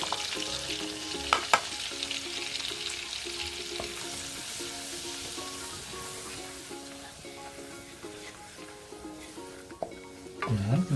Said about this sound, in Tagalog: Dito natin lulutuin yung ating flour. All-purpose flour po ito.